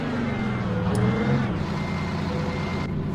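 Steady electronic reversing beeps from a Mack truck backing up in a trucking simulator game, repeating in an even rhythm over a low idling diesel engine rumble, with no talking.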